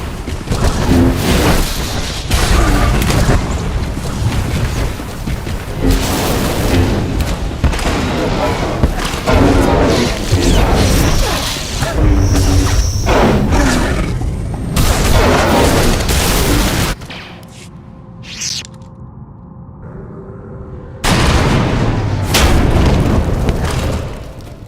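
Heavy booms and thuds from a droid-planet battle in a video game roll on almost continuously, loud and dense, with a drop to a quieter stretch of hum near the end before the blasts return.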